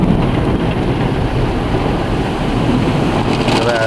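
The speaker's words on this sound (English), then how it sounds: "That's a foam bath to clean the whole car again." An automatic Softgloss Maxx car wash running its foam bath cycle with Ryko chemicals produces a steady, loud, broadband hiss and rush that stays constant throughout, with no speech.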